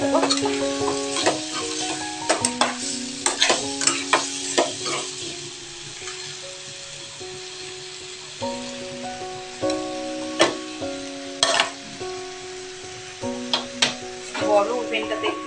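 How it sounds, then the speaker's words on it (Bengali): Lote fish jhuri stirred while frying in a pan, a steady sizzle broken by repeated sharp utensil scrapes and clinks, close and fairly loud, with faint background tones and no talking. "এটাকে একটু নাড়াচাড়া করে দেবো।"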